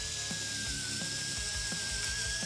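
A small Fanttik Nano power drill bores into a half-inch-thick birch paint stirrer at low speed, a steady high whine with bursts of grinding as the bit catches and cuts, close and continuous.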